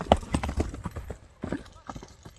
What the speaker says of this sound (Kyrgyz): чабып көрсөтүп берчи, мындай аттын жеңилдигин дагы байкап көрөлү